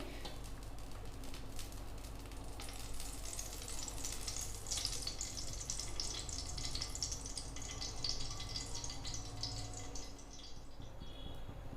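Mustard oil sizzles and crackles steadily in a hot pan before eggs go in for a dhaba-style egg curry, a dense, continuous frying hiss close up with no talking.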